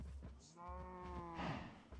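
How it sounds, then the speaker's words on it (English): A single low cow moo, harmonic and drawn out over about a second, sounds in Spair World amid light game ambience with faint soft noises around it. "Okay, roaming cows again."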